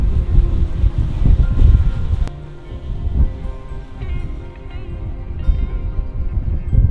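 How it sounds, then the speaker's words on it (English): Strong wind buffeting outdoors, loud low rumbling gusts that dip briefly midway and then return, with faint higher tones in the background. "Wind is really strong. I mean, look at this. You can probably hear it."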